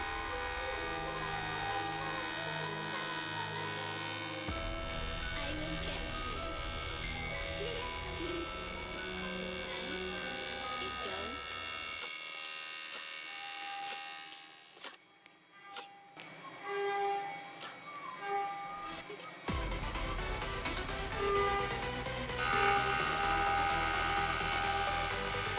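A welding torch lays weld material on a cracked 4.800-inch Hemi engine block, making a long steady high buzzing whine with shifting hum. Near the middle it drops out into irregular crackles and pauses before the buzz resumes.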